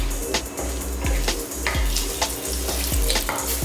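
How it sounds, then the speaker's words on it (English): Whole spices (bay leaves, cloves, cardamom, black pepper and cinnamon) frying in hot oil for a chicken curry, with a dense continuous sizzle broken by several sharp clinks and scrapes of stirring, close and loud. "Fry it for a minute. Let the spices release their aroma."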